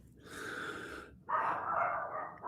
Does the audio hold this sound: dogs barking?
yes